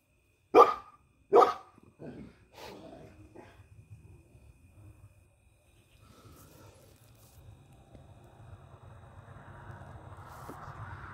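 A dog barks twice sharply and close, followed by softer muffled barks and grumbles, then fades into low outdoor rumble and hiss.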